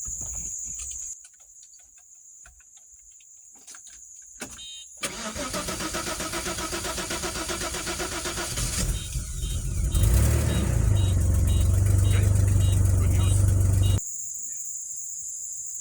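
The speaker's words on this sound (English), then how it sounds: "The car has not been running for 9 weeks and this is the first attempt, so let's see if it runs." A Bitter SC 3.0 with Bosch L-Jetronic fuel injection, idle for nine weeks, cranks with a whirring starter, catches and settles into a steady running idle, then rises to a louder rev before cutting off.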